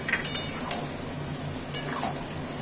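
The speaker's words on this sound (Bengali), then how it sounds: "সেই দইটা দিয়ে দিলাম দিয়ে নাড়াচাড়া করছি" Cauliflower florets being stirred with whisked yogurt in a pan for Bengali fulkopi badam moshla, with a few light spoon clinks against the pan over a faint background hiss.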